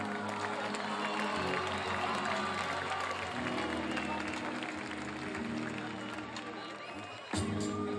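Audience applause and cheering fill a live concert by a Greek band at Technopolis, a dense, steady crowd roar with music tones underneath that sustains throughout, with a brief dip near the end before swelling again.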